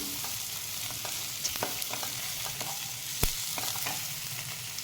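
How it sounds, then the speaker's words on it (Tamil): Onion chutney sizzles and fries in a pan, a continuous soft crackle with occasional stirring scrapes and a sharp tap, fairly faint and steady with no talking. "சட்னி நல்லா வதங்கிடுச்சு"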